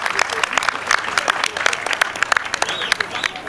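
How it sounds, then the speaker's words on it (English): Audience applause at an event where a speaker announces about 472 organizations signing up, dense clapping close by with some voices mixed in. "Please, a round of applause for this."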